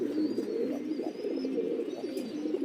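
Racer pigeons, a pair bred from Belgian imported stock, coo steadily and close by in a low, throaty murmur with a few soft chirps over the top, continuous with no talking.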